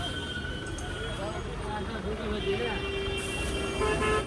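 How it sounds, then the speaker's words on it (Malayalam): Dense Kolkata street traffic sounds with repeated horn toots, some long and some short, layered over a constant roar of engines and road noise close by. "പിന്നെ ഹോണടിയാണ്."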